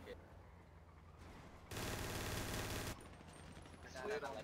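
Gunfire in a GTA roleplay video game, a brief rapid burst of shots heard fairly faint and distant for about a second, set between quieter stretches of game ambience.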